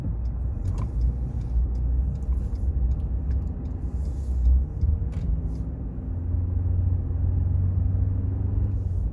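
A 2020 Ford Ranger with an automatic transmission drives along, its cabin filled with a steady low engine and road rumble that shifts slightly in tone partway through.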